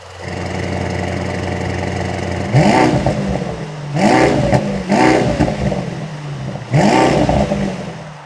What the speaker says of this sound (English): This is the active exhaust system. Not only it looks great, it also sounds great as well.